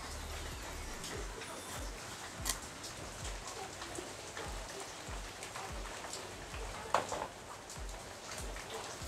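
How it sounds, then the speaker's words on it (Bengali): Steady rain falls outside a home kitchen, a dense even patter with a couple of sharper drops or knocks standing out, no talk over it. "আমাদের এখানে বৃষ্টি হচ্ছে, তাই বৃষ্টির শব্দটা শোনা যাচ্ছে।"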